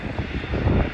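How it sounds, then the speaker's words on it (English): An Embraer E195-E2 airliner takes off at Schiphol on a very windy day, a steady broadband jet engine roar mixed with gusting wind noise, loud and continuous for about a second. "a Embraer A195 E2 taking off"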